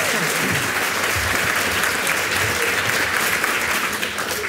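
Steady, dense applause from an audience at a national school students' debate, following a debater's speech, sustained and fairly loud throughout with no talking over it.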